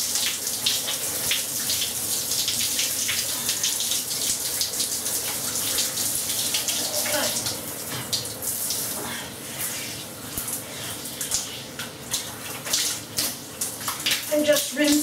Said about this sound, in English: now it's time to get it all off. Back to lukewarm water.